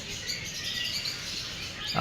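Faint, high chirping of a lovebird colony on a bird farm under a continuous hiss, with a brief louder burst at the very end.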